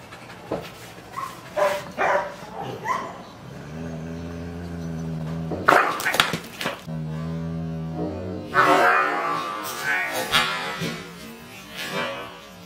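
A border collie pants in quick rhythmic bursts and lets out low, sustained growls, close and loud, with short harsher barking outbursts between the growls.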